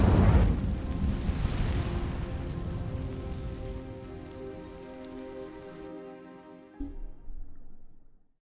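An Incendio fire spell sets dry vines ablaze in Hogwarts Legacy, a soft crackling burst of flame that slowly fades over several seconds before a brief louder flare near the end.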